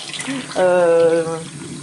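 Tap water runs from a faucet over a watercolour painting in a sink, a splashing stream that swells briefly in the middle, then settles back to a softer trickle.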